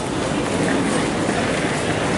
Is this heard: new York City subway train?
yes